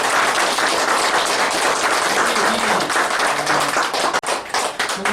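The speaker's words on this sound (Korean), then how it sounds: "박수 한번 주시죠" A press conference crowd bursts into applause, dense and sustained clapping close by for several seconds, briefly dropping out near the end before resuming.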